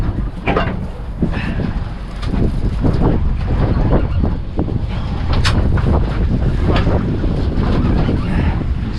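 A fishing boat offshore runs with its engine steady while being taken out of gear, heard under loud continuous wind buffeting and water noise with scattered knocks and splashes.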